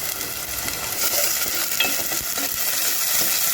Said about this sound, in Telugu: లైట్గా ఫ్రై చేసుకోవాలి